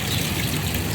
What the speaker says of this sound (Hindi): थोड़ा सा अभी पानी डाल देते ना इसके ऊपर